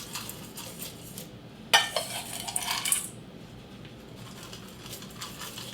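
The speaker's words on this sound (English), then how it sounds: "That way I can mix it in on these pans and it can cool all together." Granola toppings are stirred together on metal baking pans, producing quiet scraping and a cluster of light metallic clinks and rattles over about a second, set against a faint steady room background.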